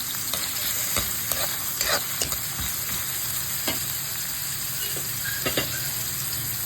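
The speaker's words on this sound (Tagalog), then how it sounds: "Magprito tayo ng itlog, lagyan natin ng sibuyas" Egg frying with onion in a pan sizzles steadily throughout, with light clicks and scrapes of stirring scattered over the constant hiss, close and fairly quiet.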